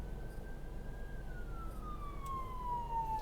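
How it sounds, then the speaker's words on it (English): A Falck ambulance siren in downtown San Diego sweeps by as the vehicle drives past, a steady wail that slowly falls in pitch over continuous street and engine rumble. "We got the Falck, F-A-L-C-K ambulance that just drove by"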